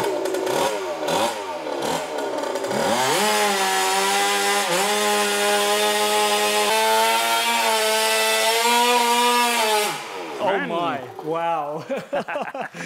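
A small gas engine on a Go-Ped SHR stand-up scooter screams at high revs, buzzing harsh and loud with rising and falling pitch sweeps, settling into a sustained rasping drone before winding down.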